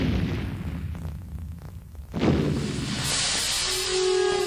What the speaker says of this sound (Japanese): よし照明弾発射